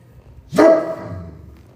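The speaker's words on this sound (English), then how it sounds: "we don't need to bark" One loud, close bark from a dog, sudden and sharp, then a short fading echo and quiet.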